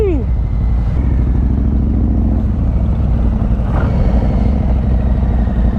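A 2021 Harley-Davidson Street Bob 1800 cc motorcycle rumbles steadily close by with a low, loping engine note as it rides, while someone talks over it.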